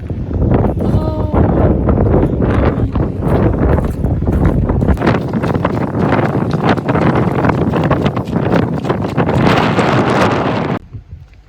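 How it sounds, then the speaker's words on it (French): Strong wind blasts a microphone outdoors, producing loud, continuous roaring and buffeting gusts for about ten seconds before dropping off abruptly at the end. "Il y a grave de vent."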